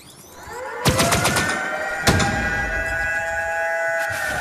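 Cannon fire in the vehicle combat game Crossout: two sharp, loud booming shots about a second apart, each followed by a ringing, siren-like sustained tone that lingers through the rest of the clip without any talk.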